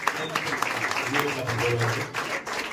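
An audience applauds at a school ceremony honouring students who excelled in their 10th and 12th board exams; a steady wash of clapping continues under someone speaking over a microphone.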